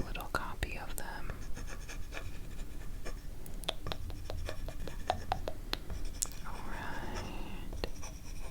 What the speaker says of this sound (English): I'll still write down your results here, just so you have a little copy of them